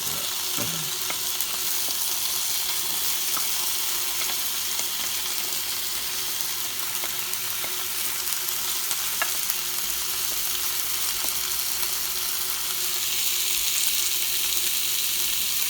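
Red pepper and onion frying in a pan for Israeli shakshuka, heard as an even, steady sizzle at close range with occasional faint clicks and no speech.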